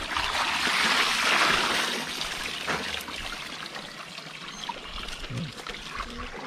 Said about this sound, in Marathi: इथे पाणी येतं, तुम्हाला दाखवतो